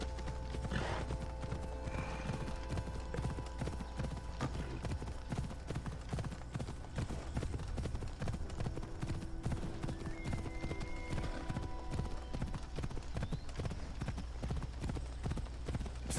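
Horse hooves clip-clop in a steady rhythmic gallop during riding in the video game Assassin's Creed Odyssey, with occasional neighs over a constant background ambience.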